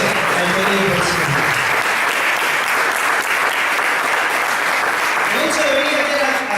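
A church congregation applauds loudly and continuously during a Spanish-language sermon, a dense, even wash of many hands clapping at once that holds at full strength for the whole stretch, with faint voices mixed in beneath.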